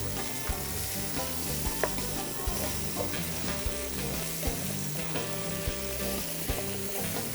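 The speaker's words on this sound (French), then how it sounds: "vous allez ajouter les autres légumes et vous allez faire rissoler ça pendant 3-4 minutes" Vegetables and garlic browning in a pot, giving a steady, close sizzle with occasional stirring clinks and scrapes throughout, no voices.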